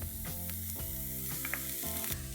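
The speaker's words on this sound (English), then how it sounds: "I'm also going to add in half a capsicum finely chopped" Finely chopped capsicum hits a hot pan, giving a steady, quiet sizzling hiss beneath background music.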